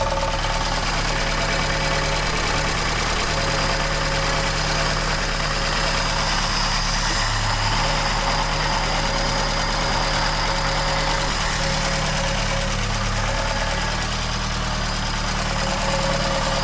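An MK1 Ford Escort van with a clutch fault idles steadily and close up for over sixteen seconds, a constant mechanical drone with a faint rattle running through it and no voices.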